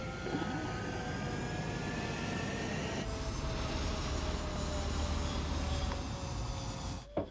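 Military jets spooling up and roaring for takeoff in Ace Combat 7, a steady loud engine drone with rising whines that holds throughout, ending in a brief thump.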